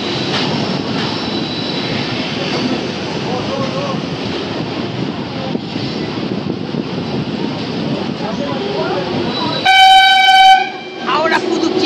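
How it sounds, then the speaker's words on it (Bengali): Howrah–Puducherry Express rolling into Bhubaneswar railway station, a steady rumble of wheels and carriages that runs on loudly, then a sharp tonal horn or whistle blast near the end before the noise drops off. "তো 10 মিনিট লেটে কিন্তু আমাদের ট্রেন এসে ঢুকেছে ভুবনেশ্বর রেলওয়ে স্টেশনে"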